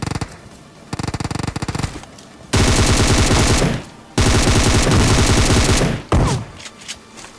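A UMP45 submachine gun fires in PUBG Mobile, in loud rapid automatic bursts, the longest lasting over a second, separated by brief pauses and a few quieter single shots.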